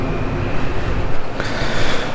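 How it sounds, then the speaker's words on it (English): Steady rumble and hiss of the Amtrak Cardinal train (train 51) at New York Penn Station, a loud continuous low drone with a brief rise partway through and no talking. "let's get to board our train to Chicago"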